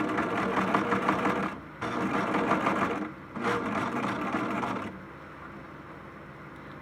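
A sewing machine runs in steady bursts while stitching fabric along a 1/4 inch seam allowance, sewing forward and back to lock the stitch. The whirring motor starts and stops with brief pauses, close and loud, then drops to a quieter hum near the end.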